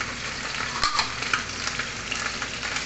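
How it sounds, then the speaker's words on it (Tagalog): Onions frying in a pan give a steady, dense crackling sizzle with a few louder pops and spits, close and continuous, with no speech. "unahin natin sa pag-fried yung ating onions. Fried onions"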